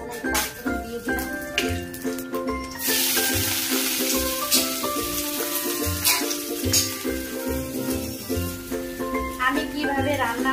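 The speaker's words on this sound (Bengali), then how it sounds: "ফোড়নে পাঁচ ফোড়ন দেবো, এই যে পাঁচ ফোড়ন দিয়ে দিলাম।" Panch phoron five-spice seeds hit hot oil in a home kitchen pan, a steady close sizzle and crackle that persists throughout, with someone talking over it and faint utensil clinks.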